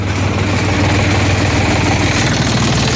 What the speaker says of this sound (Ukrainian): мені подобається, шепче трактор